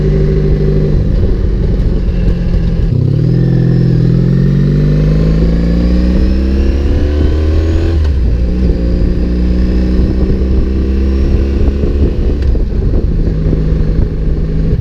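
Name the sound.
motorcycle being ridden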